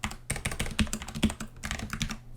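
Quick typing on a computer keyboard, a run of crisp, close key clicks in uneven bursts with a brief pause in the middle, with no voices.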